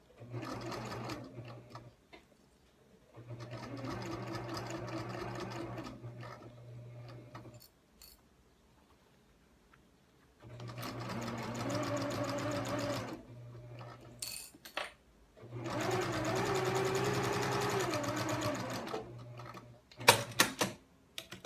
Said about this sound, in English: the gusset is now attached. It's sewn all the way around